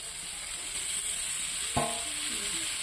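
Chickpeas sizzle steadily in hot oil in a pan during outdoor cooking, a close, even hiss with a single dull knock partway through as they are stirred.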